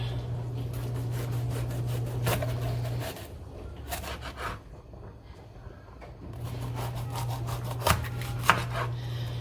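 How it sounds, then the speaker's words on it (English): A knife chops vegetables on a cutting board, fast steady taps close by with a brief pause midway, over a constant low hum from the kitchen. "I'm just gonna go ahead and chop this up."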